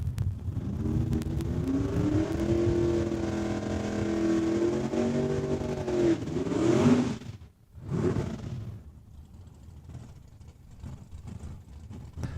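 A Sunbeam Alpine drag racing car in the Super Pro class makes a single pass at Saskatchewan International Raceway, its loud engine droning and rising steadily, then cutting off abruptly before a brief burst and fading away.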